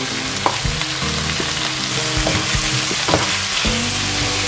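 Onions, peas, corn and dry spices fry with a steady close sizzle in a pan, with repeated scraping knocks of a spoon stirring and mixing them throughout.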